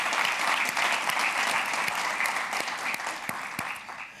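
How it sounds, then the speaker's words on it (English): Audience applause at a business forum closing address, steady and full with sharp individual claps standing out, gradually tapering toward the end. "I want you all to join me in applauding Amy"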